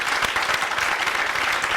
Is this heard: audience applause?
yes